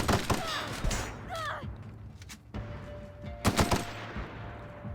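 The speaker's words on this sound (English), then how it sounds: "shooting Parvati. Don't do that." Bursts of rapid gunfire and heavy thumping shots ring out in The Outer Worlds on Nintendo Switch, with clusters of loud cracks, quieter pauses between, and a faint voice-like sound in the background.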